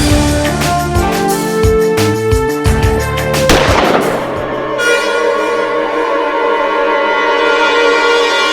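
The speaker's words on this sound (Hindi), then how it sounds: "और गोली चलाओ" A rapid burst of loud, sharp gunshots cracking close by, followed by a long ringing metallic decay as the echoes fade out.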